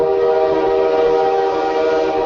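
A train horn sounds as a steady, loud sustained blast of stacked harmonic tones, part of a rail-crossing public safety announcement, with no speech over it.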